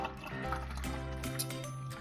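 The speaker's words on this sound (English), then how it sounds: "pour this in the gallon so that I can keep it in the fridge" Slow-cooker hot apple cider poured slowly into a gallon jug, a steady gurgling, filling stream with rising tones and small splashes, close and moderately quiet, no talking.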